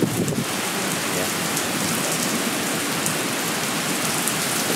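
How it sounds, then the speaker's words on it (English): Heavy rain and wind roar steadily during a strong thunderstorm, a dense loud wash of downpour filling the whole moment with no talk over it. "just the rain and the wind is loud"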